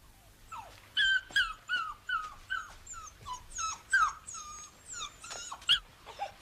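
A dog whimpers and whines in a string of high, pleading yelps, close by and fairly clear, with short breaks between cries and a few sharper yips.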